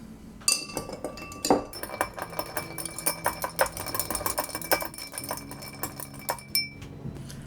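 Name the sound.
stirring a gin martini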